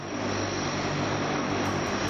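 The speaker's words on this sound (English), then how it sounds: "Hearing these planes coming in and taking off all the time." Propeller airplanes arriving and taking off near a Pittsburgh site produce a loud, continuous engine drone that holds steady throughout, with no voices heard.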